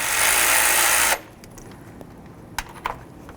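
A power tool spins loose a fan shroud bolt on the radiator of a 2006-2010 Dodge Charger, a loud whirring burst that cuts off after about a second, followed by a few faint clinks.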